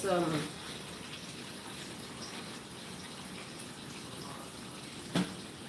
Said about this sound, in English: I like to wash my meat.